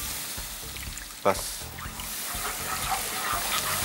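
Water poured into a pan of cashew gravy on the stove, a splashing, sizzling wash under a brief spoken word, with a sharp splash early on followed by continuous bubbling noise.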